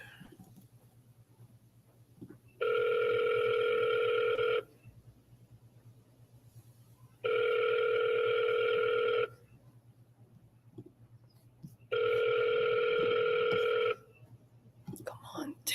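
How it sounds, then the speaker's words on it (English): Three evenly spaced telephone ringback tones, each lasting about two seconds, sound over a quiet line with a low steady hum while waiting for a call to be answered. "Come on, damn, answer the phone."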